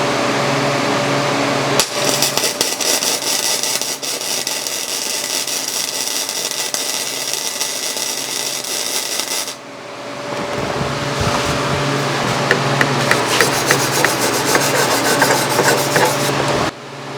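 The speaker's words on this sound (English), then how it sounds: "So let's go ahead and lay a couple practice beads right here," A YesWelder MIG 205-DS flux-core welder running on 110 volts lays practice beads, producing a loud, steady crackling sizzle that breaks off briefly near the midpoint and then resumes with sharper popping, and no talking.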